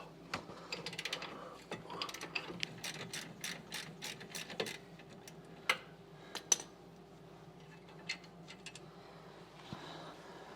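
Ratchet clicking while breaking loose bolts on the rear suspension of a 2006 Lexus RX330 during wheel bearing work, irregular bursts of sharp close ticks over a quiet garage background.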